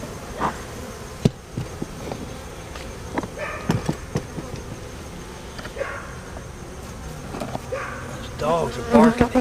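Honey bees swarm around an opened, honey-heavy hive during a queen inspection after mite treatment, a steady agitated hum filling the background with sharper buzzes passing close, plus a few clicks and light handling noises.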